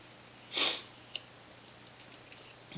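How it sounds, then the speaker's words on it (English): One short, close sniff through the nose, followed by quiet with a faint click. "if you're wondering why I'm sniffling or whatever"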